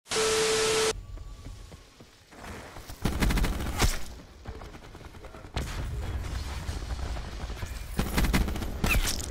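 Black Ops 4 gunfire comes in loud, sharp bursts and single shots separated by quieter stretches of game ambience, without any speech over it.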